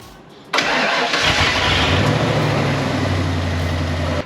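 A Ford Lightning pickup, being built up as a rock crawler and fitted with a catalytic converter, cranks and fires after a half-second of quiet, then settles into a steady, loud idle with a low rumble.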